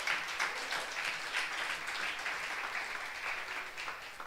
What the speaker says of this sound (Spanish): Que le den fuerte el aplauso al Señor.